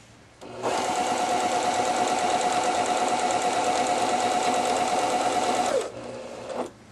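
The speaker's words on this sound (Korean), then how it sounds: "스티치 땀 길이 3에 넣고 박음질을 해보겠습니다." An Elna 3210/3230 sewing machine stitches at stitch length 3 in one continuous, fast, close run of about five seconds, a steady mechanical whir with rapid needle pulses that starts and stops cleanly.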